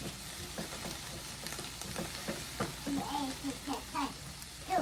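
Peppers and broccoli fry in a pan with a bit of onion, a soft, faint sizzle running steadily underneath, with light clinks and stirring noises toward the end.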